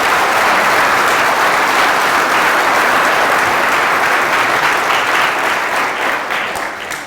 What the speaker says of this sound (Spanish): Fuertes aplausos a la Iglesia que tanto amamos